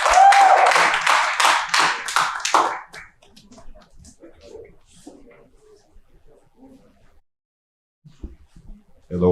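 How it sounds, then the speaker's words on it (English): An audience gives a round of applause after a panel introduction at a creator-economy event, loud dense clapping for nearly three seconds before it dies away to quiet room noise and brief speech. "Give them all a round of applause, please."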